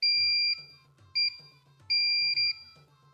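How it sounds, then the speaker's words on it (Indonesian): A short-circuit tester's shrill electronic buzzer sounds in several short, loud beeps of uneven length, with faint clicks between them. "ketika short dia akan berbunyi dan LED indikator pun menyala guys ya"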